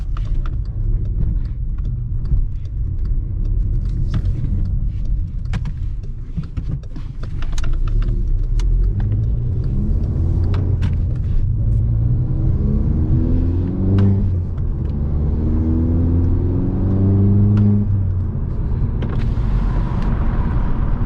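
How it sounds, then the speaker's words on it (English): A modified VW Golf Mk6 1.4 TSI engine roars continuously in a tunnel, its pitch climbing and falling as it revs repeatedly, loud and close with a deep rumbling undertone. "Get some revs and let's get some revs in this tunnel"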